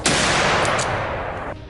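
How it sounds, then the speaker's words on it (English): A loud, rapid burst of gunfire aimed at a herd of wild boars, lasting under two seconds, the shots blurring into one continuous roar close by. "a rapid burst of gunfire erupts, taking down the two fattest beasts."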